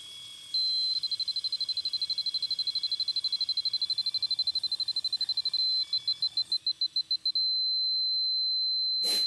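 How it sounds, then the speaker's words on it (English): A laser level used for setting deck footing heights emits a steady high-pitched electronic beep that goes from rapid intermittent pulses to a continuous solid tone, close and clear with no talking. "It goes from an intermittent beep to a solid beep when you're level."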